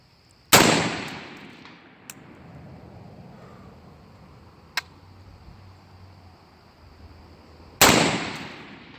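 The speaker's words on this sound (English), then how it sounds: "I love shooting this thing, so I'm going to keep shooting it some more." Two loud, sharp rifle shots ring out several seconds apart from a rifle fitted with a Trijicon ACOG TA-31 scope, each with a short echoing decay, between fainter clicks and a steady outdoor background hum.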